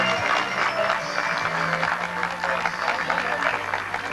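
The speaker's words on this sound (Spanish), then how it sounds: "Gracias y un fuerte aplauso." Audience at a school centenary celebration applauds with a steady, diffuse patter of clapping heard at moderate distance, with murmuring voices underneath.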